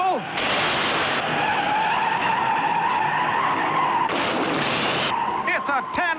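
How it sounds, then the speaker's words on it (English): Several 1962 USAC stock cars, including a number 44 Chevrolet, skid and spin in a 10-car tangle at Milwaukee, giving a loud continuous roar of engines with tire squeal throughout and a brief burst of louder noise near the end. "Gherkin in number 44 Chevrolet spins in the middle of the traffic."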